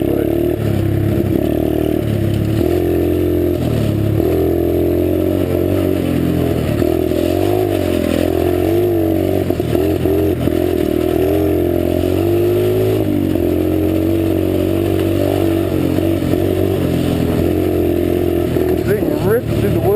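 A pit bike engine runs and revs continuously while riding wheelies through the woods, rising and falling in pitch over a loud, close, steady drone, with a person talking over the engine.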